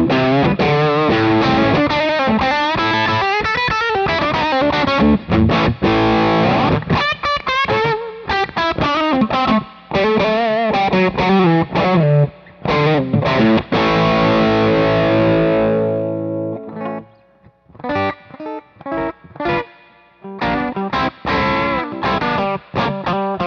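Electric guitar with a single P90 bridge pickup driven through overdrive distortion, playing loud, sustained rock chords and riffs with a few brief pauses near the end.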